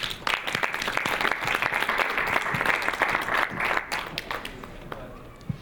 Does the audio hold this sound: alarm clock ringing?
no